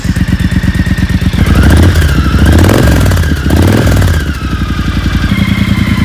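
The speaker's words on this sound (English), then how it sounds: "Pull in the clutch, see if I can start it up." A 2020 Triumph Rocket 3 R motorcycle engine fires up with a loud chugging idle, revs briefly, then settles back into a steady, rhythmic idle close by.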